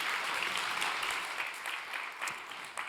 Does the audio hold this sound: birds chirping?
no